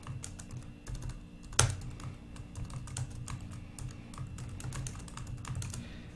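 Fast, close typing on a computer keyboard, a continuous run of light key clicks with one louder clack near the start, and no talking.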